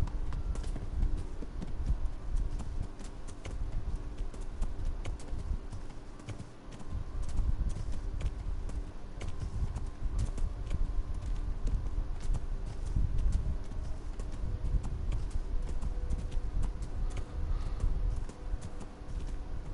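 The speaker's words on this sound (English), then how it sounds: "They better pay me well for this horse." Horse hooves clip-clop at a steady walking pace in the video game Kingdom Come: Deliverance, over a low rumbling background, moderately quiet and continuous.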